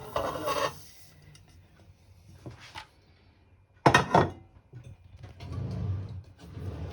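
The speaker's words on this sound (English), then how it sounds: "we use a wooden spoon to briefly give it a bit of a stirring so the sugar sort of goes everywhere" A wooden spoon stirs whole oranges and sugar in a pan, giving scraping, rasping strokes in short bursts with a louder scrape midway and quiet gaps between; no voices.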